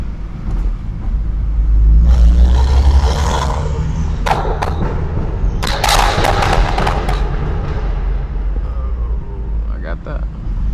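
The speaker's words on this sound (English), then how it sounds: "So I'm gonna let y'all boys just enjoy the sound of the car." A BMW 335i with the N55 engine drives at night, its exhaust droning low with rising surges and sharp crackling pops and bangs, loud and close.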